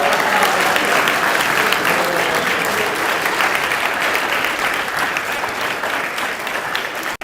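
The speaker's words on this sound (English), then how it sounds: "a warm applause to the amazing debaters" An audience at a conference debate applauds warmly and steadily for several seconds, dense clapping from many hands that stops abruptly at the end.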